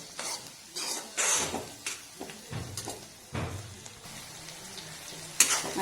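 Onions sautéing in a pan for Khandeshi-style vangi bharit, a sequence of soft sizzling bursts and scraping stirs with intermittent clanks of a utensil against the pan, moderately close and with no talk.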